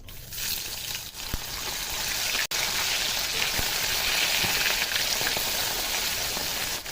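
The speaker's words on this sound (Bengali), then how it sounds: "তেলটা গরম হয়ে গেছে দিয়ে দেবো গোটা কালো জিরে এই তেলের মধ্যে দিয়ে দেবো মাছ" Pomfret fish dropped into hot mustard oil with black cumin seeds, giving a loud, dense, continuous sizzle and spatter that holds steady throughout at close range, with no talking.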